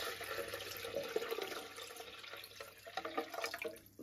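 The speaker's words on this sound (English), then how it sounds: "And then we've got to fill the water up" Tap water runs steadily into a kitchen egg-cooker machine's reservoir up to its max line, a continuous splashing rush that fades slightly toward the end, with no talking.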